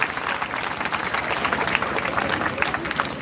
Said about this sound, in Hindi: तो मैं पूरे शेर परिवार के लिए एक बार जोरदार ताली बजाना चाहता हूँ।